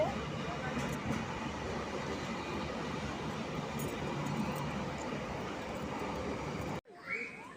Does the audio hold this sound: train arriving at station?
yes